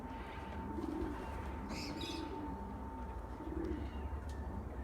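Pigeons from a loft out on a training flight in Brisbane, soft repeated cooing with a brief flutter of wings and chirps, steady faint background hum, no talk.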